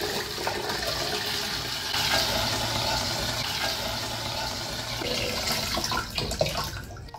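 Water gushes steadily out of an upturned plastic water bottle in a kids' science experiment, a loud continuous rushing pour lasting several seconds before tapering off at the end.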